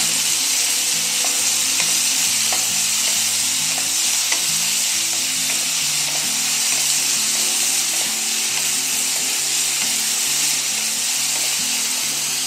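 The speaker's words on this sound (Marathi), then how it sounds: "आणि सगळं छान परतून घेणार आहे" Spring onion greens and coriander sizzle steadily as they're stirred in a hot pan, a continuous close frying hiss with scraping stirs, no voices.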